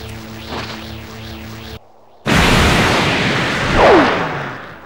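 A spirit bomb explodes in Dragon Ball Z Kakarot: a brief drop to silence, then a loud, sustained roaring blast that swells and slowly fades, following a whooshing, warbling charge-up.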